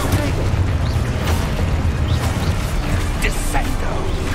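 A Confringo spell explosion in the Hogwarts Legacy video game, a loud continuous booming roar with crackling bursts that fills the whole moment without a break.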